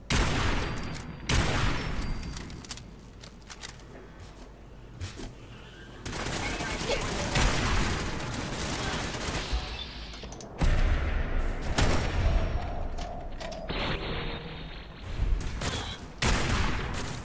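Turret gunfire in the game Fallout 4: rapid bursts of automatic shots and fusillades coming in loud waves with brief lulls, mixed with booms and impacts, while a person talks over parts of it.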